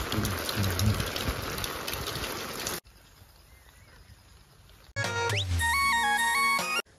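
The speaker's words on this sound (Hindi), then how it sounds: "देखो पूरा प्रबल वर्षा होचे" Heavy rain pouring down in a village, a dense steady patter for a few seconds that then cuts off, followed by quiet and a loud synthetic melodic jingle.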